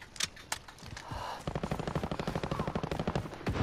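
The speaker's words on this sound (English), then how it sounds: "Oh, the marksman rifle." Marksman rifle fire in Call of Duty Modern Warfare multiplayer, a few spaced sharp shots followed by a rapid, steady stream of closely spaced gunfire cracks, fairly quiet overall.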